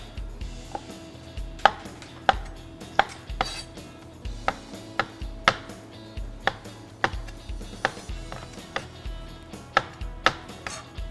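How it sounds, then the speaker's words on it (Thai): A knife chops fresh jelly mushrooms into bite-size pieces on a cutting board for a Thai chicken and jelly mushroom soup, sharp regular knocks about twice per second, close and clear with no talk. "จะหั่นเดี๋ยวหั่นเป็นชิ้น"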